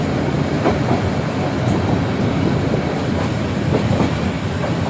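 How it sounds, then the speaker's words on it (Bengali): A train rolls past close and loud, a steady rumbling roar with faint rhythmic clatter of wheels on the rails, continuous throughout with no talk. "আর একটা ট্রেন আসতেছে"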